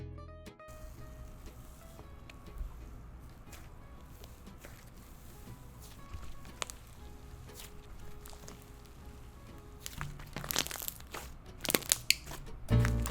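Slime is squished by hand in a quiet, close setting, giving soft, irregular crackly and squelchy pops that grow louder and busier near the end, with no talking.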